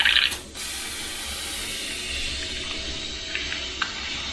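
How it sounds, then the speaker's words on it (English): Airbrush blowing water through its nozzle to flush out red paint, a steady airy hiss running throughout after a brief louder burst at the start, with a couple of faint clicks near the end. "Blast that through with water again."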